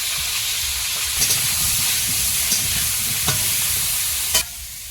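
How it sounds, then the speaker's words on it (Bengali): Potatoes frying in a pan with turmeric powder and salt, cooked outdoors in the Sundarbans: a loud, continuous hiss of frying oil, broad and steady, with a few brief knocks of a utensil near the end. "একটু হলুদ গুঁড়ো আর লবণ দিয়ে আলুটা ভাজবো"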